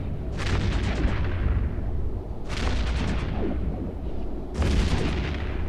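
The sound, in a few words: artillery barrage firing in EVE Echoes video game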